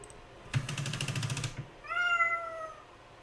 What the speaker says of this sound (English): you probably heard that meow really, really lightly because it's coming out of the computer